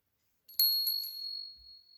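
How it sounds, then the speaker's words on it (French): A small bell is struck a few times in quick succession, bright and close, its ringing tone lingering and fading over about a second, followed by a faint low thump. "Ma petite cloche."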